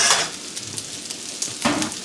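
Onions sear in a hot pan for Chinese noodles, sizzling loudly while stirring adds scraping and clattering strokes, with a sharp burst of frying near the end.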